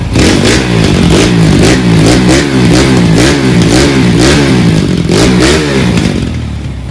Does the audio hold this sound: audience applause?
no